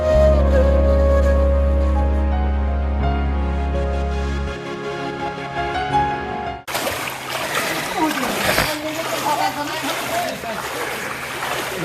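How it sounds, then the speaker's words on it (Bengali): Floodwater rushes and splashes into flooded houses beside a road, a dense, continuous wash of water that starts abruptly after a stretch of tonal background and keeps churning with occasional sharper splashes. "দেখতে পাচ্ছ কি জোর জল ঢুকছে, এখনো জল ঢুকছে আজকে"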